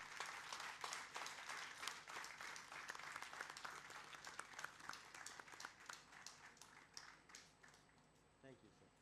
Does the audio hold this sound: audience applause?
yes